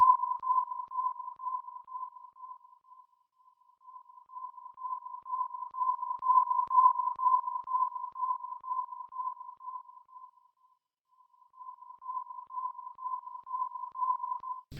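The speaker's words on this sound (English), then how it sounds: "Listen to the tones as the player turns." A steady stereo tone that shifts as a DOOM player turns in a game played by grown rat neurons, a single thin pitched hum that fades and swells, dropping out briefly near the end.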